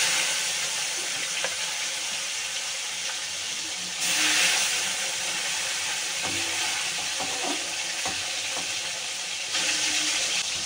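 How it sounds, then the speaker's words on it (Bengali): Fish fries in hot oil in a wok with a constant dense sizzle, swelling louder in brief bursts as the pieces shift, with occasional light clinks and stirring sounds over the steady hiss. "কড়াইতে তেল দিয়ে দিয়েছি, মাছ ভাজা বসিয়ে দিয়েছি।"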